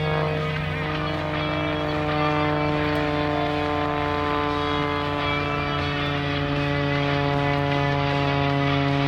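A propeller-driven aerobatic airplane climbs for altitude over an air show box in Goshen, Indiana, its engine a steady, continuous drone with a strong low hum held for the whole stretch, no voices over it.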